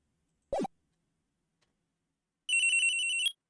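A synthesized telephone ring from the Ace Attorney video game, a brief rising chirp followed by a sustained bright warbling electronic ring lasting about a second, alone and fairly loud.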